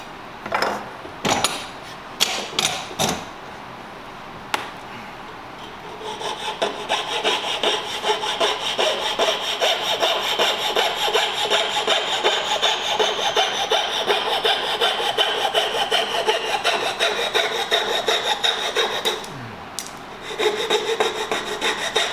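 A hand saw cuts through wood for piano cabinet drawers, opening with a few sharp knocks and scrapes before settling into a steady, rapid back-and-forth rasp that runs close and loud for about twelve seconds, then stops.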